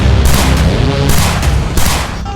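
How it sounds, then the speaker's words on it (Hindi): Rapid bursts of gunfire crackle in quick succession, loud and close, several volleys rolling into one another with no talking. "ताबड़तोड़ गोलियां"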